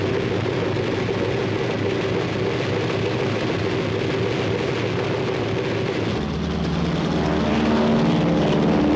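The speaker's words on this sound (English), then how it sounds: "Prepare to start engines." Engines of WWII US Navy carrier aircraft starting up, a steady loud roar with a deeper rumble building in near the end, no voices over it.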